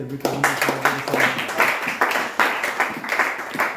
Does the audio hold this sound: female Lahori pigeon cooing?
no